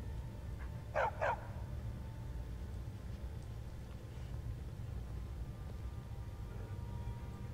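Two quick dog barks from the video game Skyrim ring out close together early on, then a steady low hum of background noise with no further barking.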